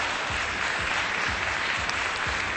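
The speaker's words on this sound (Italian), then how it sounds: "Un grande applauso" Audience applause at a 2013 artisan hairstyling show, a steady, dense wash of many hands clapping at moderate distance, continuous throughout with no voices over it.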